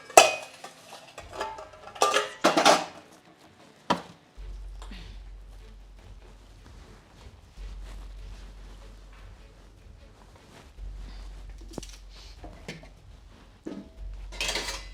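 Metal pots and utensils clatter and clank in a home kitchen during washing up, with several sharp bursts of clanging early on and scattered knocks later, over a low steady hum.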